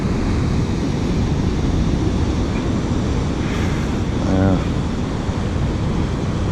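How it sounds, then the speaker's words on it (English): Rough, broken-up ocean surf churns with white water near sea cliffs, a constant loud wash of breaking waves with wind buffeting the microphone and a short voice in the middle. "the ocean's just too broken up today. In close. Look at that. Look at all that white water."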